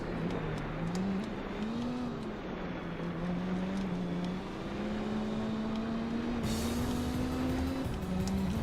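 A Peugeot's engine in the Gran Turismo 4 racing game drones steadily as the car runs, its pitch wavering up and down with small throttle changes, a continuous moderate hum without any talk.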